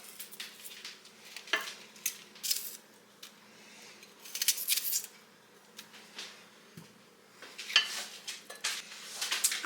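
Knife cutting up a small onion on a board, a scattering of close, light chopping taps and crisp slicing sounds with brief pauses between, no talking.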